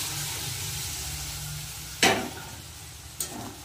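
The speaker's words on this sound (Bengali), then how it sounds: "সিদ্ধ মটরটা এবার দিয়ে দেবো" Boiled peas tipped into a spice masala sizzling in a pan for a spicy red vegetarian ghugni: steady frying hiss throughout, with a sharp louder crackle midway and a smaller burst near the end.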